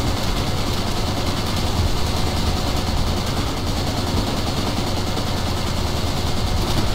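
Call of Duty: World at War gunfire as a dense, steady burst of rapid automatic shots that runs without pause through the whole stretch, loud and close, with no voices.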